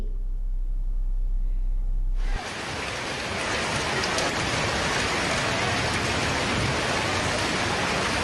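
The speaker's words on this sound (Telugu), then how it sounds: "భారీ వర్షం కురిసింది" Heavy rain pours steadily in Hyderabad, a dense, even roar of drops on surfaces that cuts in abruptly after about two seconds of quieter hum and continues loud and unbroken to the end.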